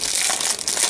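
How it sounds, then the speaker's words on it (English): Plastic packaging crinkles loudly and close up as it is opened, a continuous dense rustle with slight surges, with no voices. "I know using on video when you're opening up plastic, it's very noisy."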